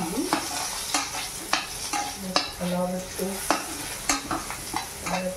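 Potatoes frying in a pan with cumin and chilli while a spatula stirs them, giving a continuous sizzle broken by regular scraping strokes about once a second, close and fairly loud.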